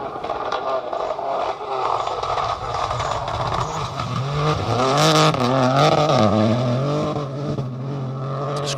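A small Peugeot rally car runs a gravel stage of the Severn Valley Stages in the Welsh Rally Championship. Its engine drones steadily and swells into a loud, warbling rise and fall of revs, with faint commentary underneath.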